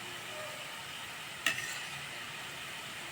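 Murukku dough pressed straight into hot oil for frying, a faint, steady bubbling sizzle with one brief sharp crackle partway through.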